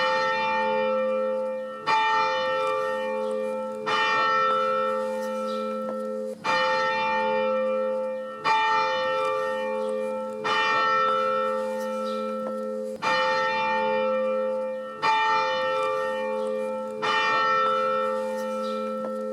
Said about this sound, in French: L'angélus sonne 3 fois 3 coups avant le tintement horaire